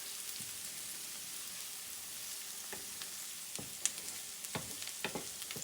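Onions and garlic caramelize in a pan for garlic mashed potatoes, making a faint, even sizzle broken by occasional soft ticks and stirring clicks, close by and without talk.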